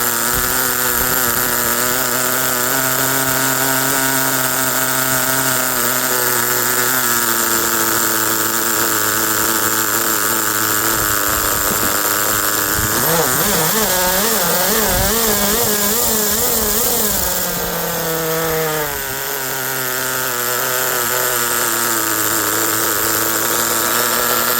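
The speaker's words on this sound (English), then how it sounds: "This engine's way too powerful." A Colt Nitro 10 glow engine in an RC car runs loud and steady with a high buzzing whine, rising into rapid revving sweeps midway before settling back, then sputtering slightly as it runs rich.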